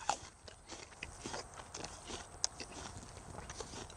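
A ripe, juicy Liberty apple fresh off the tree is bitten and chewed, giving faint repeated crunchy snaps close to the mic in a quiet setting.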